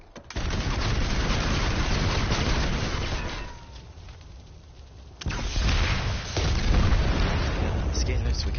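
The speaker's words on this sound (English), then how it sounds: "Hear gunfire." Gunfire and explosions from the video game Planetside 2 on PS4 keep up a dense, loud, continuous barrage. The battle noise dips briefly in the middle, then a sharp blast brings it back at full intensity.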